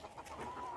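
Hens at a poultry-rearing farm give a brief burst of soft, close clucking, short and low, with no voices.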